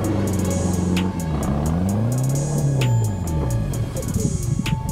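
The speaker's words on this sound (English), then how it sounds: "Both Jeeps just pulled through" Off-road Jeeps crawl along a forest 4WD track, their engines droning and shifting pitch as they pull through nearby, with rattles and clanks over the steady rumble.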